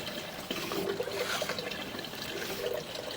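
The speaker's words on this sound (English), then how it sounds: "You've seen the sump did drain, and we had water that came into the storm manhole out here" Water from a thin-walled 3-inch Schedule 30 sump drain trickles into a storm manhole in an outdoor greenbelt, making a steady, close, continuous dribbling wash with no voices.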